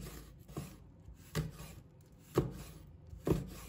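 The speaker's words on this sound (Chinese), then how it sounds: "小米椒切成片" A kitchen knife slices bird's eye chili peppers on a cutting board, giving a handful of soft, irregularly spaced taps against a quiet background.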